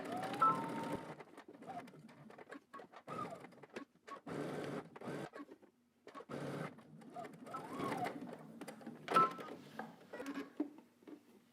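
A home sewing machine stitches a seam with back-stitching and pivots, running in several separate bursts of rapid mechanical chatter with short pauses between, fairly quiet and close.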